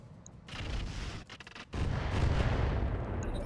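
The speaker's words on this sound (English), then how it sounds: "That was a direct fire sniper shot, like sniper artillery, but it missed." A sniper artillery shot booms in the RogueTech BattleTech video game, a heavy rumbling blast followed by a brief dip and then a second sustained, loud roar of explosive noise.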